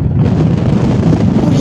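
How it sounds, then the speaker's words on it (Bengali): Strong gusting wind roars into the microphone on a mountain road in Afghanistan, a loud, continuous buffeting rush filling the whole moment. "এমন বাতাসে ভাই দাঁড়িয়ে থাকতে পারতেছি না"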